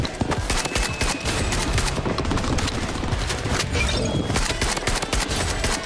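Dense, continuous gunfire from a shotgun in the shooter video game Blood Strike, rapid overlapping blasts with game effects throughout, no voice heard.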